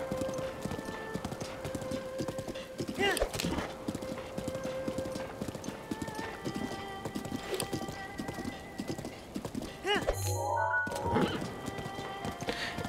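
A horse in The Legend of Zelda: Breath of the Wild clip-clops at a steady walking rhythm, with a neigh partway through and a brief whinny near the end over soft ambient game sound.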